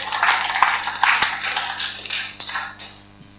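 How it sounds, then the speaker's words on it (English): Participants at a communication workshop get a short round of clapping from a small group, several uneven claps with sharp individual hits that taper off within a few seconds. "give these guys a big clap"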